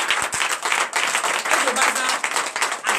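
Church congregation clapping steadily through a lively service, dense hand-claps filling the room alongside voices and worship sounds.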